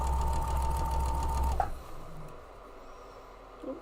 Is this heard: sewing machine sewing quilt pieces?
yes